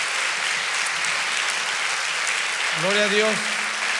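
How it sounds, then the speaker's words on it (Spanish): Sustained applause from a congregation at a pastoral ordination, honouring Eric and his family, a steady wash of clapping with a voice calling out briefly near the end. "Más fuerte ese aplauso para Eric, Daniela y toda su familia."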